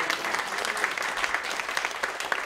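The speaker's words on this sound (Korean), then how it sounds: "박수" Applause from a church congregation at a New Year thanksgiving worship service fills the space in a steady, dense patter of many hands, moderately distant and sustained throughout.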